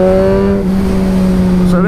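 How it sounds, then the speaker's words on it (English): A Suzuki GSXR1000R sportbike at full throttle in fourth gear from about 20 mph, a loud, steady engine drone with a low, even pitch that rises slightly near the end, with a voice talking over it. "So 20 miles an hour, full throttle, very flat, then it kicks in"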